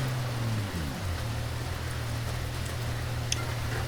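Steady rain hisses over a low, droning vehicle engine while driving in BeamNG, a constant wash of noise close around the car with no talk.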